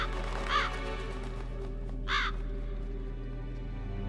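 Crows caw in the Metal Gear Solid video game, two loud harsh calls spaced a second and a half apart over a low steady background hum.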